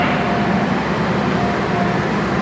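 A New Generation economy-class train rumbles steadily at an Indonesian station platform, a loud, continuous low drone of engine and wheels close by.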